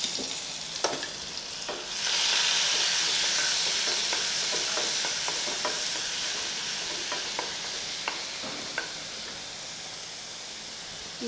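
Chopped onion and garlic fry in a pan with a loud, steady sizzle that swells after a couple of seconds, broken by scattered clicks and scrapes of stirring.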